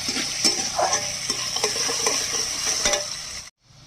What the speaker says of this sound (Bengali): নুন হলুদ দিয়ে আলুটাকে একটু ভেজে নিই।